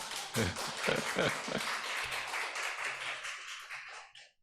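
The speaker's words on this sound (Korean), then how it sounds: "우리 박수 좀 환영해 주시기 바랍니다" A church congregation at a Friday prayer meeting claps to welcome visitors. It is a dense, moderate burst of applause that fades out after about four seconds, with no speech over it.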